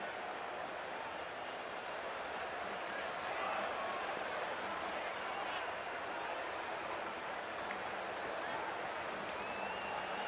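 A large stadium crowd in the Cricket 24 video game gives off a steady wash of murmuring and cheering noise, continuous and fairly faint throughout with no sharp peaks.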